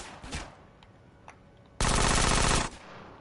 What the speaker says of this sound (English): Why am I being shot at right now?